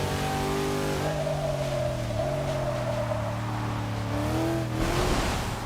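A 2002 Nissan GTR with all-wheel drive races through rain in Forza 6, its engine droning and revving with shifting pitch, rising and easing through gear changes, steady and close throughout.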